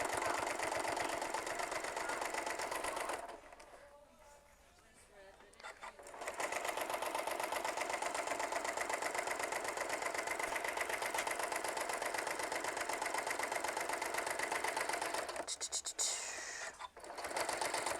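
Sewing machine stitching a quilt seam, a fast close whirring chatter that runs steadily, breaks off for a few seconds, then resumes and briefly pauses again near the end.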